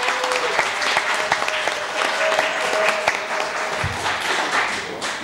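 Studio audience applause at a 1988 German television talk show, a dense, continuous, fairly loud wash of clapping from many hands that holds steady throughout.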